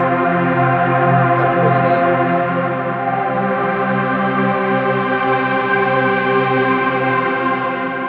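A sustained synth chord washed in shimmering reverb, bright and steady with a thick, chorus-like sheen, loud and alone.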